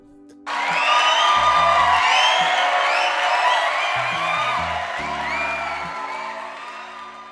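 Cheering and applause for Smitty from a small group, loud whoops and shouts mixed with clapping that start abruptly and hold steady over a repeating musical backing.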